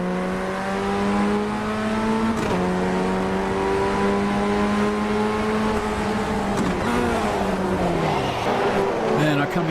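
A Formula 1600 race car engine at the start of a race, a steady loud droning whine that rises in pitch through the gears, with a shift and a dip partway through, heard from inside the car.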